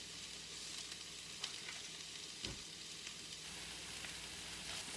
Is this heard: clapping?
no